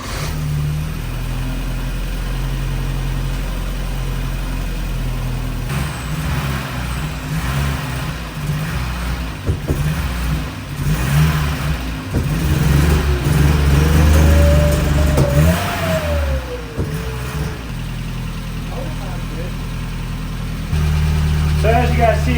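Porsche engine running just after its first start in over ten years, a loud, close, steady idle with a brief rise in pitch like a light rev, while people talk over it.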